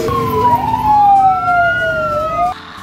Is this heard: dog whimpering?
no